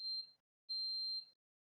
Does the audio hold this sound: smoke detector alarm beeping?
yes